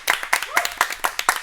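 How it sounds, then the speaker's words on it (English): A few people clap at an esports arena event, a short run of distinct, evenly spaced handclaps close by, sparse rather than a full crowd. "Big round of applause."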